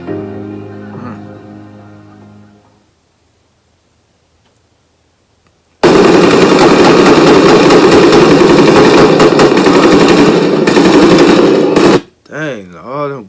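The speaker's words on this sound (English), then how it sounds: "all them gunshots" War-film gunfire set in Ramadi, played back on screen, bursts in suddenly after a quiet stretch: a loud, dense, sustained volley that cuts off after about six seconds.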